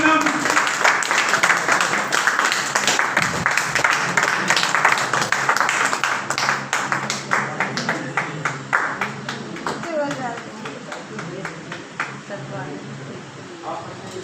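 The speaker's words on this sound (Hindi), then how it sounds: "तो एक जोरदार तालियों से वेलकम करते हैं most welcome great leader mister Manoj Kumar Singh sir" An audience gives sustained, energetic applause to welcome a speaker at a business seminar. The clapping stays dense and loud for the whole stretch and grows slightly sparser toward the end.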